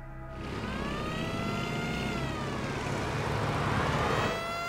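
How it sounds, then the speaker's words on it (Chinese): A wailing ambulance siren, steady and fairly loud, with its rising and falling tones sustained across the whole stretch over a low rumble, as a vehicle draws near in a wartime sniper drama. "救护车来了，准备。"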